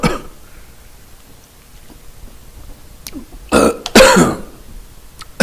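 A man clears his throat in a few short, rough bursts after a quiet pause, fairly close and loud, with no speech over it.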